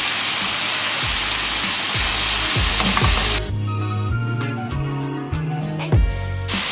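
Spiced masala for brain masala sizzles and fries loudly in a pan, with a steady hiss broken by repeated scraping stirs and clinks of a spatula against the metal, and no voices.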